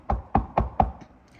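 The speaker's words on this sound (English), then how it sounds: "his mother knocked on the door." Four evenly spaced, solid knocks on a door sound close and fairly loud, followed by quiet.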